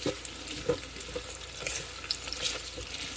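A beans mixture fries in an Instant Pot, giving soft, quiet sizzling and light crackles with faint stirring noises and no voices.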